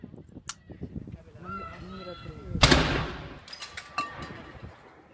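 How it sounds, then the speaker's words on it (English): A single loud artillery report from a 21-gun salute at a formal ceremony after dignitaries arrive, a sharp blast with a long decaying rumble, set among crowd voices and bird calls. "there was a 21-gun salute"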